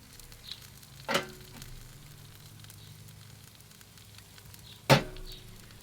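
Ribs sizzle on a Kamado grill in a steady low crackle, broken by two sharp clacks a few seconds apart; no one speaks.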